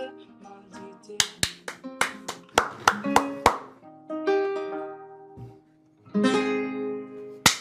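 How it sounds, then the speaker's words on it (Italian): Audience applause at an Italian X Factor–style singing contest, heard as scattered sharp claps and snaps mixed with tonal music and a sung phrase, fairly faint. "Applausi, Joao."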